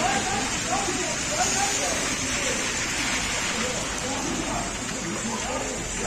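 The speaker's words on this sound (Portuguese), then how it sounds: "Muita chuva aqui em Crateús." Heavy rain pours down over the city of Crateús in Brazil, a dense, steady wash of hiss and patter that fills the whole stretch without pause, with no clear voices.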